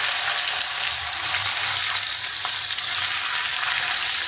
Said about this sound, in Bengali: এখন আমি এর মধ্যে লতিগুলো দিয়ে দিচ্ছি।